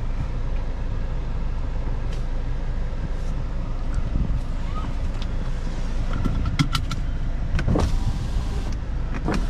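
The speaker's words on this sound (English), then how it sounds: "Automatic windows." Power windows of a 2023 VW Jetta GLI hum up and down inside the car, a steady electric motor whir that runs for several seconds, with a few faint clicks and thumps under the cabin background and no talking.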